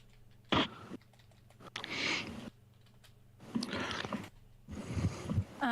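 Rapid, uneven keystrokes on a computer keyboard come in short bursts, close and moderately loud, separated by brief pauses.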